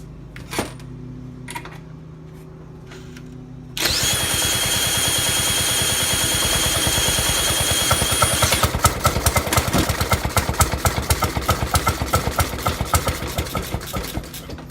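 A 1916 Maytag 1/2 hp single-cylinder engine runs loud and close after a quiet start, its steady chugging turning into distinct rhythmic firing pulses toward the end.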